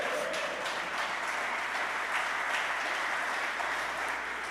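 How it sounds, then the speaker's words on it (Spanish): Congregation applauding at a men's church congress, a dense, even wash of clapping that holds steady throughout without pauses. "¿Cuántos le dan un aplauso al Señor?"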